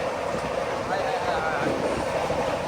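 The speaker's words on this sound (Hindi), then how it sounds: "फ्लैट व्हील एकदम मशीन गन की तरह चल रहा है" Indian Railways 12260 Bikaner–Sealdah AC Duronto Express running with a flat wheel clattering on the track, heard as a loud, steady rail rumble and rattle from inside the moving train.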